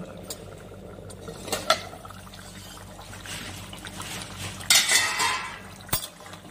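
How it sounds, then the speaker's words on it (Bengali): A metal lid clinks and scrapes as it comes off a pot of simmering fish curry with potato and pumpkin greens, followed by a soft bubbling and a couple of sharp clanks near the end. "5 মিনিট পরে ঢাকনাটাকে তুলে নিচ্ছি।"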